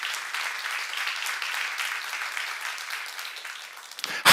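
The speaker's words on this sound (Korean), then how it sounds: "박수 한번 치세요." Church congregation applauding during a seminar sermon on Genesis at Jesus Centered Church. Steady, dense clapping from a large group continues for about four seconds, then stops abruptly as a sharp sound cuts in at the end.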